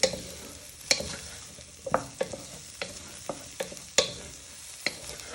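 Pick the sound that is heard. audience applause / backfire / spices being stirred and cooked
spices being stirred and cooked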